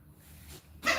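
A dog toy lets out a sudden loud squeak or squeal at the end, over low room rumble during carpet removal.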